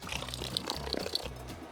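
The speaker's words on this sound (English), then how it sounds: "let's get some water in there" Water poured into a fermenting container for a Cuban sweet potato ale, a close, continuous splashing gurgle lasting under two seconds, brightening as it runs.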